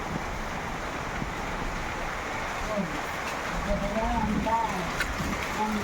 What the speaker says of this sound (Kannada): ಸಿಕ್ಕಾಪಟ್ಟೆ ಮಳೆ ಗುರು